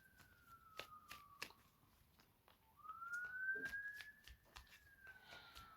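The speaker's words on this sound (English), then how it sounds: "Interesting that we're hearing an ambulance right now" A distant ambulance siren wails in long rising and falling tones, accompanied by scattered clicks and taps close by.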